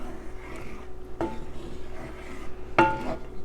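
A spoon stirs thick Sloppy Joe filling in a pot, with two distinct metallic scrapes or clanks against the pot rim over a quiet, faint background.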